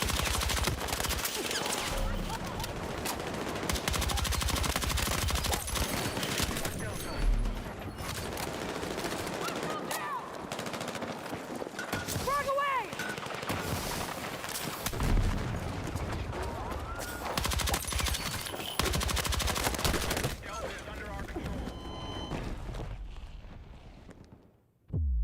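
Gunfire and explosions in the video game Battlefield 6, a dense continuous barrage of rapid shots and blasts with brief lulls, loud throughout before cutting off at the end.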